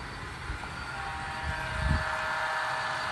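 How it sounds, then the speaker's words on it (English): An HO scale model train on a DCC layout, run by a Roco Maus controller, rolls along with a steady mechanical rumble and soft wheel clicks over a constant hiss. "So this train, number 57, is currently being operated by a Roco Maus"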